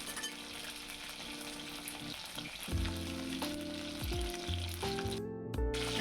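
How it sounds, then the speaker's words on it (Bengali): Chicken pieces fry in hot oil for Thai-style fried chicken, a steady close sizzle with louder crackling bursts and spatters as pieces are turned, no voices. "আর এক পিস ভালোভাবে একটু ভাজা হোক"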